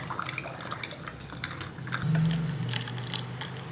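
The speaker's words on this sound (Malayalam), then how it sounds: "ജ്യൂസ് ഒഴിക്കാം." Juice pours and splashes softly into a glass with ice cubes and sabja seeds close by, with faint drips and small clinks around it.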